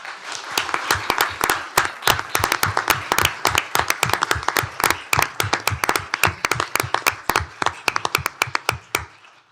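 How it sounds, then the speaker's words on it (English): A hearty round of applause at a county commissioners court meeting, a modest group clapping in a clear, fairly steady rhythm of distinct individual claps that thins out toward the end, with little talk. "let's give Texas Christian University and the Community Scholars Program a hearty round of applause."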